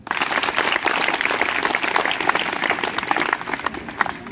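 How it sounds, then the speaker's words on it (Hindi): An audience at a motivational speech breaks into loud, vigorous applause, a dense burst of many hands clapping that fills the whole moment at close range. "अगर होता है तो गलत है, और नहीं होता है तो जोरदार तालियां।"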